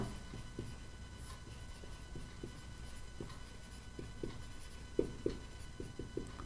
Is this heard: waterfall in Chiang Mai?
no